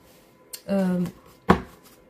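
Tarot cards are shuffled by hand before a reading, a quick riffle followed by a sharp tap of the deck being squared, close and clear in a quiet room.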